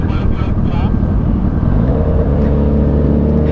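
A motorcycle engine revs near 7,000 RPM and holds a loud, steady drone with rumbling low tones and wind buffeting throughout, close to the microphone on a moving ride.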